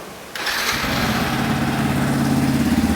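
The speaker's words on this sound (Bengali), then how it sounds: "এবার চেষ্টা করব বাইকটা স্টার্ট করে আপনাদেরকে সাউন্ডটা শোনানোর।" Engine of a Yamaha FZS V4 motorcycle cranks and catches after a short quiet lead-in, then settles into a steady, close, loud idle with no talking.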